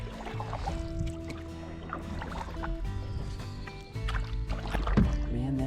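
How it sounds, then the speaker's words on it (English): A solo canoe paddled across a remote northern lake in Algonquin Park in spring, with steady low water movement and paddle strokes rippling continuously near the boat, no voices. "Back in the canoe, I started my paddle across Biggar Lake."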